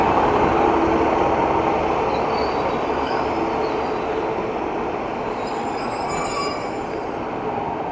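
A Great Western Railway train in blue livery at Paignton station rumbles past close by with a steady broadband roar and squealing wheels, holding loud and even throughout with no talking.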